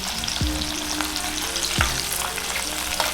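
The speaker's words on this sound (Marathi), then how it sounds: "एक एक मिनिट फक्त आपल्याला फ्राय करायची आहे" Tiger prawns fry in a hot pan with a loud, steady sizzle, close up, broken by a few sharp spatula scrapes and knocks, with no one speaking.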